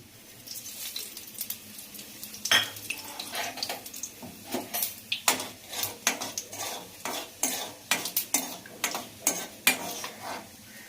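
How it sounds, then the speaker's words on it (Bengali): Cumin seeds and five-spice (panch phoron) frying in hot oil for raw mango chutney, with crackling pops, a steady sizzle and scattered spoon-on-pan stirring clinks building in a quick irregular rhythm, close and fairly clear. "তো প্রথমে আমি একটু 5 ফোড়ন ভেজে নিচ্ছি, জিরা ফোড়ন দিচ্ছি।"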